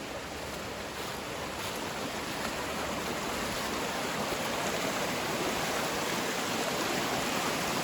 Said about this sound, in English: the water's still really flowing well